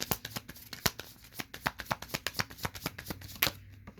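A tarot deck being shuffled up close, a rapid run of crisp card riffles and slaps in an uneven rhythm, with no voices over it.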